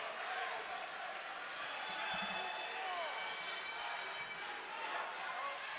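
A boys high school basketball crowd of Stanners faithful rises and roars as a shot arcs toward the basket, a steady broad cheer with sneaker squeaks and a bounce or two, and voices talking over it.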